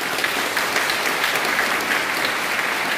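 A church congregation applauds newly called pastors as they bow during an ordination service, a steady, dense wash of many hands clapping throughout, loud and continuous with no talking.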